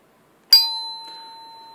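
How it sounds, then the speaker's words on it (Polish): An electric doorbell's coil-driven plunger strikes a metal chime bar once, giving a sharp close gong that rings on with a long, slowly fading tone. "który uderza w jedną z blaszek i powstaje wtedy charakterystyczny gong"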